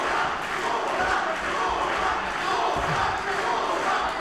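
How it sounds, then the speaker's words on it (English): A fight crowd at a Superior FC title bout chants a fighter's name in the closing minute, forming a loud, dense, continuous roar of massed voices with a steady rhythm throughout. "the crowd getting behind Max, chanting his name"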